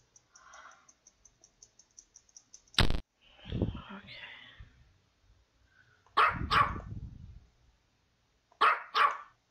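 A dog barking in the video game Potato Salad Jam: loud, sharp barks arriving in quick pairs, separated by quiet stretches with faint ticking game sounds.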